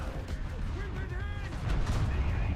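Artillery fire in a tank battle game, heavy low rumbling booms rolling steadily under a game sound bed, with faint tonal effects and voices over the top.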